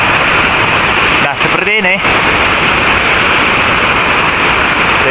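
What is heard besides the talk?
large waterfall, Curug Cisaladah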